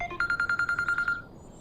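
A telephone number being dialed to place a call: a rapid, even run of about ten short keypad tones, clear and close, with no talking.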